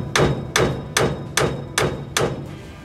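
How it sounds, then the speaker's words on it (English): Brass hammer striking the steering wheel of a 1955 Ford truck, six sharp metallic blows at a steady rhythm, close and loud, each ringing briefly before the next. "I'm just going to hit it with a brass hammer here."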